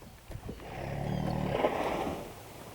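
A whale's low, drawn-out groaning call after bubble feeding swells and fades over about two seconds, resonant and breathy, heard alone without talk.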